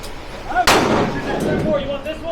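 A single sharp gunshot at an outdoor shooting range in Las Vegas cracks loudly and close, trailing off into a rumbling echo, with a faint voice in the background.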